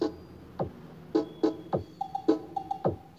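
Music from a cellphone plays through a mid-high speaker on a two-amp setup with EQ and mixer, sharp percussive hits and short tonal notes, mostly mids and highs with little bass, no voices.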